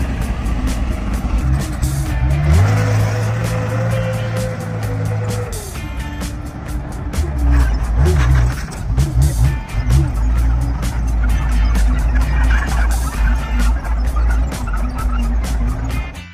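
A restored tank with the world's largest gun runs and drives, its engine giving a deep, loud, steady rumble with shifting revs, and a rising whine partway through.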